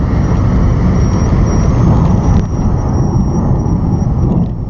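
Nissan GTR on a drag run at a dragstrip, heard as a loud, sustained engine roar that stays dense and close before easing slightly near the end.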